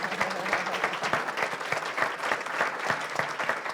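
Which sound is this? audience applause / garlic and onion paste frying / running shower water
audience applause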